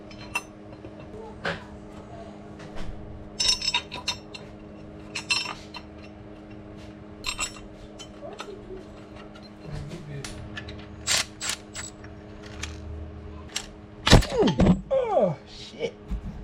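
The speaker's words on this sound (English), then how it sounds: "We're about to throw these motor mounts in." Steel motor mounts are fitted to a 5.3 LS engine with scattered metallic clinks, thunks and ratchet clicks. A steady hum runs underneath, and a sharper clatter of tools comes near the end.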